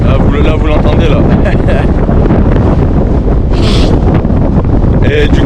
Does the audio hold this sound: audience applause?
no